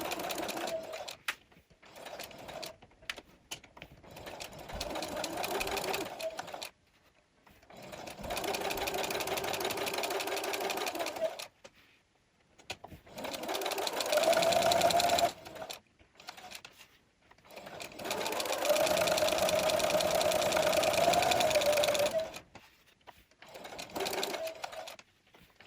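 A sewing machine stitches around a plush houndstooth fabric heart in several bursts of steady mechanical whirring, separated by short pauses, close and fairly quiet with no talking.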